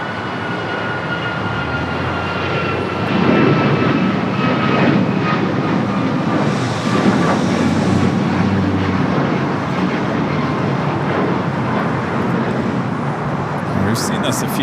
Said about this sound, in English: United flight heading to Dulles, now rolling down that 25 for right